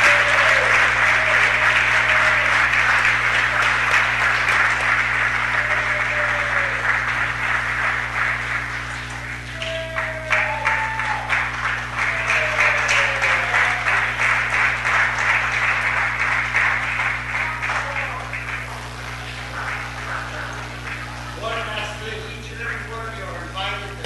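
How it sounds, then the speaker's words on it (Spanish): Audience applause in the chamber at a Los Angeles city council meeting, a loud sustained round of clapping that fades and swells over about twenty seconds, with voices talking underneath and a steady low hum behind. "Un aplauso."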